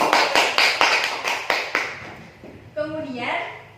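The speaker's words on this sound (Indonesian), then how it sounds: "Tepuk tangan." Students in a classroom give a short round of rhythmic, unison clapping, about eight sharp claps that fade out before voices pick up.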